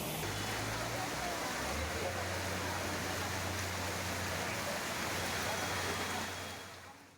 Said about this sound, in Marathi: पुण्यामध्ये सोसाट्याच्या वाऱ्यासह मुसळधार पाऊस सुरू आहे